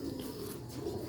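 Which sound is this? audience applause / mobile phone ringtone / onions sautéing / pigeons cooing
pigeons cooing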